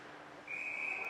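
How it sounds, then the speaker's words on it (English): A referee's whistle at an ice hockey game gives one sustained shrill blast starting partway through, heard over faint arena noise. "that was a bit of a late whistle, it looked like"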